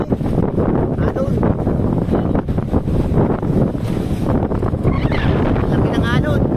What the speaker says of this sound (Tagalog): Malakas ang hangin. Alon.